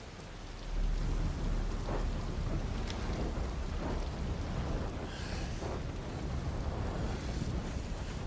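Steady heavy rain hisses throughout a Final Fantasy XVI game scene, with low rumbles of thunder rolling underneath and a brief gusty swell partway through, no talk.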